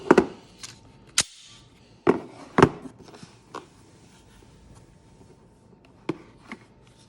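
An Avidity Arms PD10 9mm pistol being cleared, a series of sharp, close metallic clicks and clacks spaced irregularly, a few louder snaps among fainter handling noises in a quiet room.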